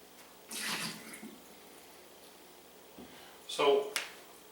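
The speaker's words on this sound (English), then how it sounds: "So I got some boiling hot water that I'm going to pour on top of it." Boiling water poured from a kettle over fries in a Pyrex dish, heard as two short splashing pours separated by a quiet pause, faint and close.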